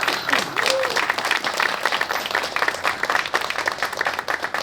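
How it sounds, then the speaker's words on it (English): Audience applause at a Comprehensive Plan signing ceremony, a steady roomful of clapping sustained at even loudness throughout, with a brief voice or whistle-like tone near the start. "If we could give Bob a round of applause."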